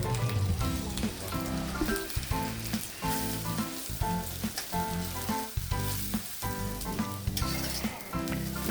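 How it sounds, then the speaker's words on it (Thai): Ingredients being stir-fried slowly in medium-hot oil in a pan while cooking fried tilapia in Chiang Tung style, a continuous close sizzle with scraping stirs and crackles, no talking. "น้ำมันปานกลางแล้วค่อยๆ คั่ว คั่วไปเรื่อยๆให้กลิ่นมันหอมขึ้นมานะครับ"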